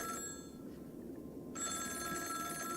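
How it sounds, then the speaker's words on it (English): Telephone in the video game Honkai: Star Rail ringing with a bright electronic trill, one burst, a short pause, then ringing again, quiet and clear with no talk. "Is that a phone?"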